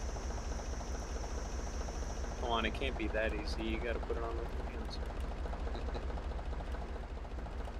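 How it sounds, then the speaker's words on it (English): A loud vehicle engine runs in a modded video game, a constant low rumbling drone with a steady hum, while people talk over it partway through. "the engine is so loud"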